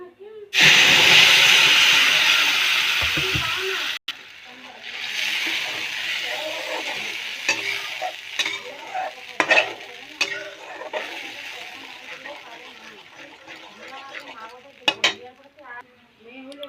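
Grated tomato and onion hit a hot pan with a loud burst of sizzling hiss that fades after a few seconds into softer crackling and occasional utensil clinks, with someone talking over the later part.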